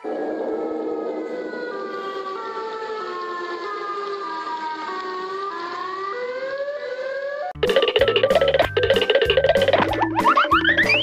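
Video game siren that rises and falls in a long wailing sweep and is steady and loud, then turns into choppy, pulsing electronic alarm tones and boings.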